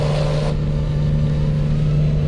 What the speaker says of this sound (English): we've got quite a few trucks out today